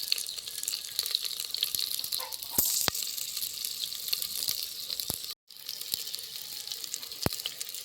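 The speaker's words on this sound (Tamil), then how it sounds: "பச்சை மிளகாய்க்கு அப்புறம் குடை மிளகாய் சேர்த்துட்டேன் குடை மிளகாய் நல்லா வதங்கட்டும்" Bell pepper sautéing in a pan after green chilies, a continuous bright hiss of frying with scattered clicks and taps of a utensil and a brief drop-out near the end, no voices.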